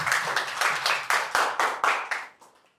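A church congregation claps together in welcome, a loud run of roughly even, rhythmic bursts that slow and fade away at the end.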